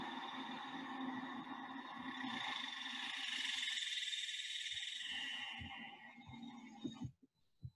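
Superb dog day cicada, Neotibicen superbus, singing its Texas mating song: a loud, buzzing whine that builds, holds steady for several seconds, then fades and breaks off into soft scattered clicks and rustles.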